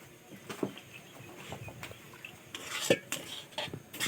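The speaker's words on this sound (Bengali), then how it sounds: "অল্প অল্প দুধ দিয়ে নেড়ে নেবো।" A spoon stirs and scrapes fried semolina in a pan as boiled powdered milk is added a little at a time for semolina gulab jamun, giving repeated close clinks and scrapes against the metal.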